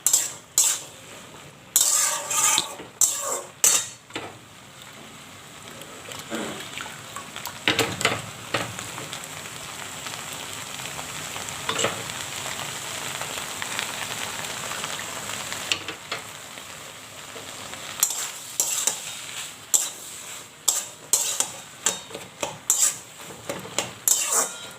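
Ghugni sautéing in a pan, steady sizzling under repeated scraping and clinking of a spoon against metal, close and irregular, with bursts of stirring clatter at the start and end.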